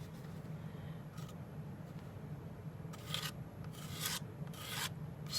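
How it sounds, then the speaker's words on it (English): Palette knife scraping paint across a canvas while painting flowers: several short, dry rasping strokes, the last ones grow louder and longer, close by over a low steady background hum. "just scrape it on there"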